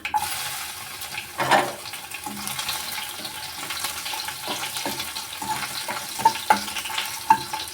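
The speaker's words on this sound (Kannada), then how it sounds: "ಚಿಟಪಟ ಅಂತ ಸಿಡಿಲಿ. ಬೆಳ್ಳುಳ್ಳಿ ಹಾಕೋತಾ ಇದ್ದೀನಿ." Garlic dropped into hot oil for tempering, followed by curry leaves, giving a soft, ongoing sizzle with a few louder crackles and clinks of stirring near the end, close and moderately quiet, with no voices.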